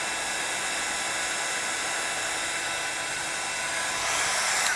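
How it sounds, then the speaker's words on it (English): A heat gun blowing steadily while heat-setting embossed texture on a stamped craft piece, a close, even hissing whoosh of air, no voices over it. "just take that heat gun, heat set that, and we're good to go"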